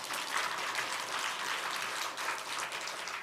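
A church congregation applauds with steady, dense clapping from many hands, moderately loud and unbroken throughout.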